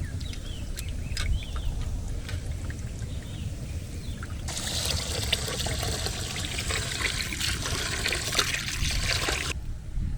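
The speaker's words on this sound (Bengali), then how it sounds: "কলে চালটা ধুয়ে নেবো, জল এসছে কলে" Tap water runs while rice is rinsed, a steady splashing rush for several seconds in the middle, with a rooster faintly crowing in the background before it.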